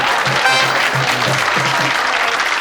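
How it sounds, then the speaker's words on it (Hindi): A stand-up comedy audience applauds in a dense, steady wash of clapping that fills the room throughout, with a few faint voices mixed in under it. "लोग हमारी ताकत का लोहा देखकर ताली बजाएंगे।"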